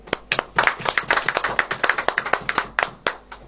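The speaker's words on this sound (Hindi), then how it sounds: "एक बार फिर तालियां बजाएंगे" A church congregation claps in a fast, steady rhythm during a Hindi-language worship service, with many sharp hand claps repeating evenly and fairly loud, with no talking over them.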